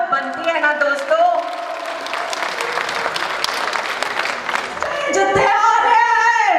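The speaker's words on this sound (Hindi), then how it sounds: "जोरदार तालियां तो बनती है ना दोस्तों" A festival crowd at an outdoor stage show, the Monsoon Festival at Patnitop, bursts into loud, sustained applause and cheering, with an amplified voice over music at the start and the end.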